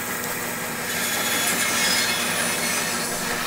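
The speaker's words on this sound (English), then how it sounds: "During this test cut, I'm checking to make sure that the blade is riding correctly on the guides" A band saw makes a test cut through wood stock, a steady close-up rasping and whirring of the blade biting through the board, continuous and fairly loud with no talking.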